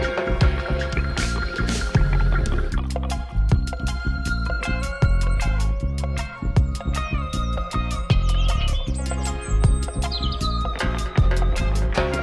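Water is poured over a freshly repotted blue spruce bonsai, making close, busy splashing, trickling and squishing with many small clicks and drips. Birds chirp faintly in the background, and nobody speaks.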